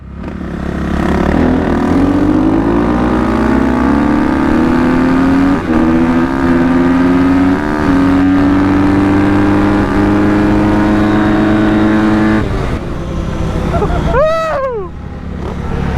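A supermoto motorcycle engine revs up and climbs steadily in pitch as it accelerates, loud and close, with wind noise and a voice briefly heard.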